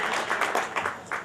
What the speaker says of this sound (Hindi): जोरदार तालियां बजाकर एक ऐसे कवि का स्वागत करिए